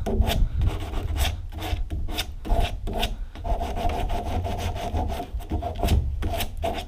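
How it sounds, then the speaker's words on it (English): Repeated rasping strokes of hand sanding on wood with a sanding block, a rhythmic back-and-forth scratch, close and fairly loud, with no voices. "You just want to sand it until it's smooth to the touch."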